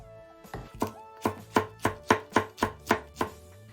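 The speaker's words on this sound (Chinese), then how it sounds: "切好胡萝卜丝以后，咱们再切点青椒丝。" A kitchen knife chops green peppers into strips on a cutting board, about a dozen crisp, evenly spaced knocks in a steady close rhythm with no talking.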